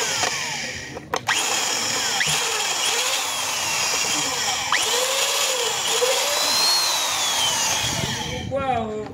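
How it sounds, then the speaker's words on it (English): A power drill with a 5 mm bit bores into a Toyota cylinder head cover during spark plug thread repair, whining steadily and loudly for about eight seconds with brief dips as the pitch bends, then stopping near the end. "So this is a 5 millimeter drilling bit."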